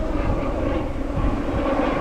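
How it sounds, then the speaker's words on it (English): A helicopter flying over a beach, heard as a steady, continuous engine and rotor drone that holds at an even loudness throughout, with no talking. "Old chopper hooning around."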